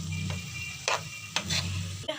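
Capsicum frying in a pan for a chicken sandwich filling, with a soft steady sizzle and a few quick scraping stirs, quiet and close.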